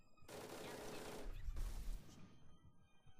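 Gunfire in Halo: Combat Evolved Anniversary aimed at grunts and jackals below, a dense burst of rapid shots with a heavy boom near the middle, loud and close, tapering to quieter game ambience.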